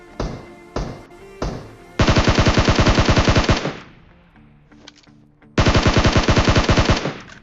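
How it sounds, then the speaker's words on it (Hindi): SCAR-L rifle with a 3x scope firing in the PUBG video game: three quick single shots, then two long, loud automatic bursts separated by a short pause with a few faint distant tones. "स्कारल पे 3x लगा के मारूंगा उसको मैं"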